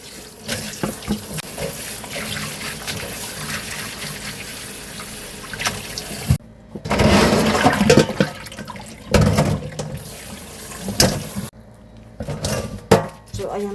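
A kitchen tap runs over salted seaweed stems (miyeok julgi) being rinsed by hand, a splashing flow that surges and cuts out several times, loud and close, with no talking.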